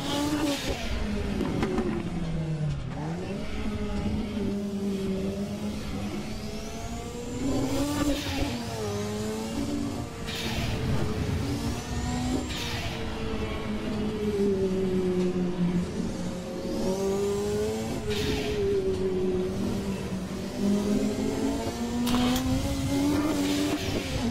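Turbocharged Ford race car engine accelerating hard on a circuit, a loud, continuous droning roar that rises and falls with gear changes through the corners, heard from inside the car without any talking.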